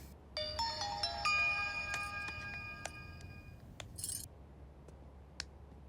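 A mobile phone ringtone chimes in a bright, repeating electronic melody, fairly close, then stops, followed by a few faint clicks and clinks, in a comedy film scene.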